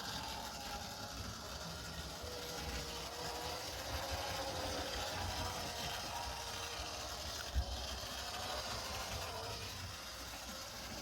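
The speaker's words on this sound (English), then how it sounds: "So the light engine runs off." A model railway light engine locomotive rolls along track in a shed layout, giving a steady whirring mechanical rumble with faint clicking, continuous and moderately quiet throughout with one brief clack.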